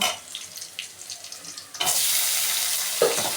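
Onion and tomato sautéing in a pan for vegetable Maggi noodles, with quiet scraping and stirring that gives way to a sudden loud, steady hiss as the tomato goes in, close and with no talk.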